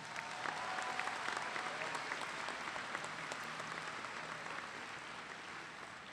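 Crowd at a high school graduation giving a round of applause, dense and steady clapping that continues evenly throughout at moderate distance.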